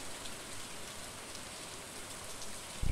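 Steady rain falling across a day in the farming video game Stardew Valley, a dense, even hiss of drops on surfaces throughout, with a brief low thump right at the end.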